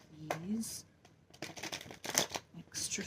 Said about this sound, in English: Extra shuffle.